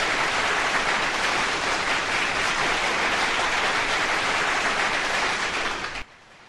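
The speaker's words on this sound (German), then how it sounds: "Hier, jetzt läuft der Applaus." A recorded applause sound effect played on a radio broadcast, a steady, even roar of clapping and crowd noise that cuts off abruptly near the end.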